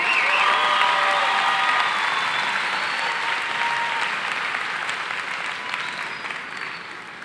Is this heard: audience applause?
yes